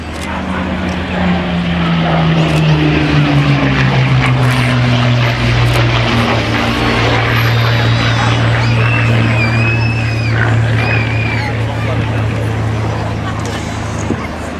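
A Hawker Hurricane propeller aircraft drones loudly and steadily overhead at the Cleethorpes Festival of Flight, its engine pitch sliding lower as it passes, with faint crowd chatter in the background.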